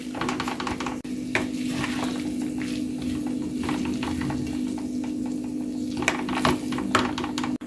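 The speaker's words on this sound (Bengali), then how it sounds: "1 থেকে 2 মিনিট ভেজে নেওয়ার পর দিয়ে দিচ্ছি নুডলস।" Maggi noodles go into a frying pan and are stirred, giving a steady sizzle with scraping, clicking spatula strokes repeating irregularly over a constant hum, close and moderately loud, no talking.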